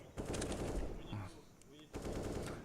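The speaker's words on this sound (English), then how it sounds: "Rops has an auto sniper." Rapid auto sniper rifle shots in Counter-Strike, sharp bursts of gunfire in two clusters with a brief lull between, heard faintly under a tournament broadcast's background noise.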